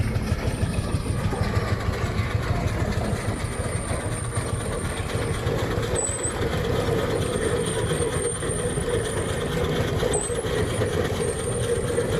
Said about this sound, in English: Tractor here, meanwhile. Field Marshal.